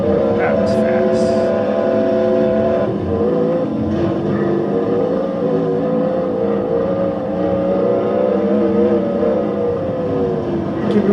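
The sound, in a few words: Toyota Corolla race car engine in video game TORCS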